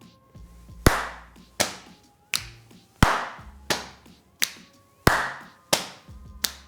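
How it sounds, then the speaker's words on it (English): A person claps, pats and snaps their fingers in a steady triple-time pattern. Sharp, close hits come one per beat at a moderate tempo with short decays and no talk. "Let's clap on beat 1, pat on beat 2, and click on beat 3."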